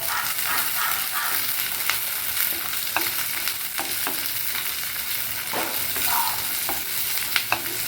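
Ginger pieces and curry leaves sauté in a hot pan, giving a steady, close sizzle broken by occasional scraping stirs, with no one talking.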